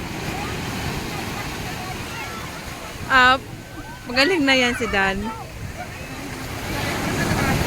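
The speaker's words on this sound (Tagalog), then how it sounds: "Grabe yung alon, ano?" Surf rolls continuously at Tiwitiwi Beach in Legazpi, Albay, a broad wash of waves and wind under brief bursts of people talking nearby.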